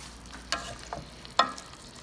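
Spatula scraping and clanking in a pan of beef and broccoli stir fry, three quick metallic strikes over a faint sizzle, close with no talk.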